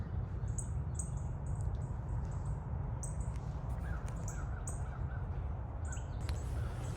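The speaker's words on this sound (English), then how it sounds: "you hear the birds this morning, beautiful morning" Crows cawing in the morning at an urban camping spot beside a police station, with repeated harsh calls in scattered bursts, some near and some farther off, over a steady low rumble of the surroundings.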